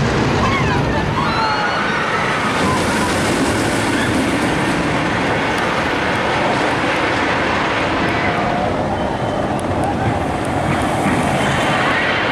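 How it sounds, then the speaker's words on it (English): Helix, the mega roller coaster at Liseberg Amusement Park opened in 2014, gives a continuous loud rumble of train wheels on track with a clattering roar that stays steady throughout, with no speech over it. "a fantastic matte mega coaster that opened in 2014 here at Liseberg Amusement Park"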